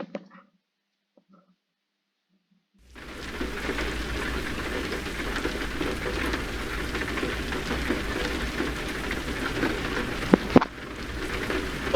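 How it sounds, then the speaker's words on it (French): Rain in the Euro Truck Simulator 2 driving game, a steady hiss of falling rain that starts abruptly after about three seconds of near silence and continues evenly, with a brief click near the end. "déjà il pleut"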